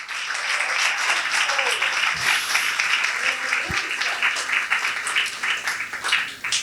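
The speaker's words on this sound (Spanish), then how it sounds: "¿Cuántos le dan un aplauso a Cristo por esa verdad?" Church congregation applauding continuously, a dense sustained clapping that swells and fades slightly across the whole stretch, with scattered voices mixed in.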